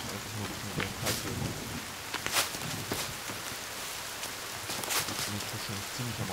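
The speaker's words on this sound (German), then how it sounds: "Oh, es regnet." Rain patters steadily in a forest in The Forest video game, a dense wash of drops with sharper splashes now and then, heard alone at moderate volume.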